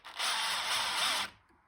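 An electric drill fitted with an opened-up U eye bolt spins to wind alloy resistance wire into a coil for an electric kiln element, giving one close, steady high whir for just over a second before it cuts off.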